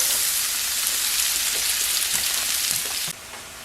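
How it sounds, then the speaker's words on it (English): Chopped onions and peppers fry in hot bacon grease in a pan, a loud, steady crackling sizzle that drops off abruptly near the end. "add our onions and our peppers into the bacon grease"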